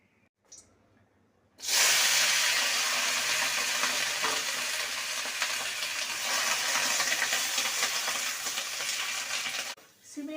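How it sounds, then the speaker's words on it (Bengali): Green beans frying in a little mustard oil in a wok, a loud, steady sizzle and hiss that bursts in after a short quiet start and runs unbroken until cutting off near the end. "সর্ষের তেল দেব প্রথমে সিমটাকে ভেজে নেব"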